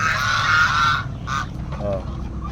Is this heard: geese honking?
yes